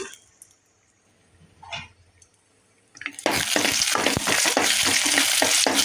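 Cashews frying in ghee for payasam: a quiet stretch with a few faint clinks, then a loud, steady sizzle bursts in and crackles continuously up close.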